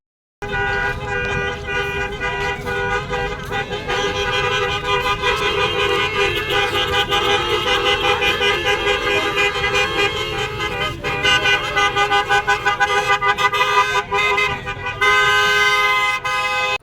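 Dense road traffic rolls past with a continuous engine drone, while car horns toot repeatedly, several in quick succession toward the end, loud and close.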